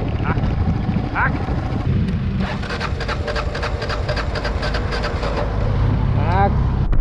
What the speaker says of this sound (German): Irgendwas stimmt mit meinem Motorrad nicht